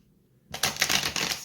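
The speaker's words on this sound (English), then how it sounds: "Sorry if that shuffling is very loud." A deck of cards being shuffled close by, a loud rapid riffle that starts abruptly after a short silence.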